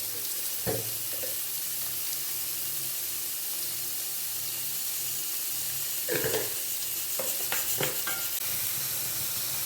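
Onion and curry leaves are sautéed in a pan with a steady, even sizzle and hiss, broken by several louder scraping stirs near the middle and end, with no talking.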